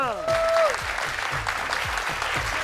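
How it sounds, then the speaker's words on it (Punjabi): An audience at a Punjabi TV game show claps in a burst of steady applause, close and continuous, following a short announcer voice at the start. "ਓਏ ਤਾਲੀਆਂ"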